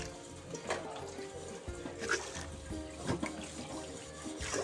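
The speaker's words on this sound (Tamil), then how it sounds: "12 டம்ளர்ஸ் தண்ணி விட்டுக்கிறேன்." Water is poured from tumblers into washed rice and dal in a pot for bisi bele bath, making a soft, continuous splashing and trickling that stays fairly quiet throughout.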